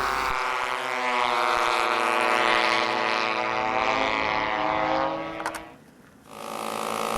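A T6 model racing plane engine screams at a high pitch during a 1998 USRA world championship pylon race. The strong buzzing whine bends in pitch as the plane passes, dips briefly, then returns loud.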